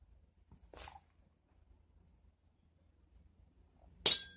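Copper wire snipped flush with cutters while making a braided bracelet: a soft click near the start, then a sharp, loud snap near the end as the cut end shoots off, in a quiet room.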